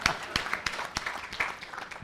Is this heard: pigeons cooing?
no